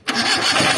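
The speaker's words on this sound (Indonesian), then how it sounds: "kita harus hidupkan mesin." A car engine with a conventional ignition system starts up during a maintenance check, cranking to life after a brief silence and settling into a loud, steady running roar.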